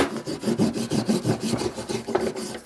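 Zam honing compound is rubbed back and forth onto a hard surface, giving a steady rhythmic scraping, close and fairly loud, with no voices.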